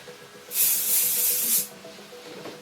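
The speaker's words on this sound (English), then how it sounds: "spray." A close burst of hairspray hisses steadily onto colorful gyaru-styled hair for about a second, then cuts off, leaving a quiet room.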